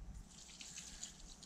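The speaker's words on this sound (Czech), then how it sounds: "Tak, teď tam naleju půl litr vody" Half a litre of water poured over spices for homemade salami, a faint, steady trickling and splashing of liquid.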